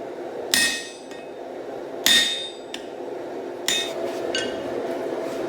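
Three heavy metallic hammer blows punching an eye in hot steel while forging a Dane axe, spaced over a few seconds, each ringing briefly with a bright clang and then fading.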